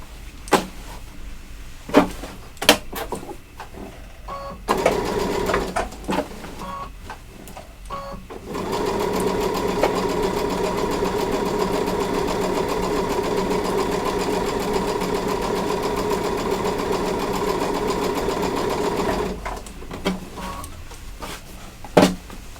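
Sewing machine stitching the corner of a patriotic pillow case: a few short bursts and clicks, then a long, steady mechanical whir of about ten seconds, then more brief stitches and handling clicks.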